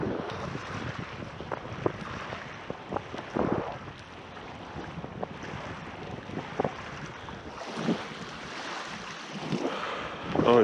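Wind blows steadily across a cold lake, with gusty, broadband rushing and some microphone buffeting, maybe water lapping, at a moderate level throughout with no talk.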